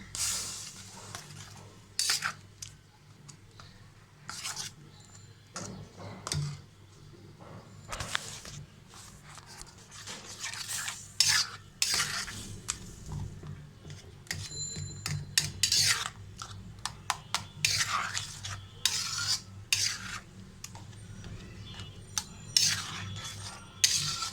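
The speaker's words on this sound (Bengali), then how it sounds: "নেড়ে চেড়ে এটাকে ঘন করে নেব।" Spoon scraping and clinking against a pan while a chhana (paneer) chocolate mixture is stirred to thicken, with irregular close taps and rubs throughout and a low steady hum underneath.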